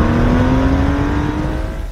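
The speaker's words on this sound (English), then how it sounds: "they don't make cars that sound like this anymore." A sports car engine idles loud and close, with a deep, steady burble and a slight rev, no voices over it.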